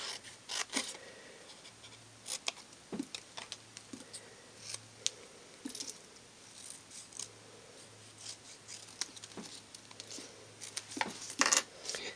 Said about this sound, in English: I'm going to stamp that on a piece of Whisper White, and just hand cut that for now